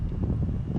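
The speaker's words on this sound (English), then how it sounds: "Kind of windy today" Wind buffets an outdoor microphone with steady low rumbling for under a second, on a windy day while Birmingham Roller pigeons are flown.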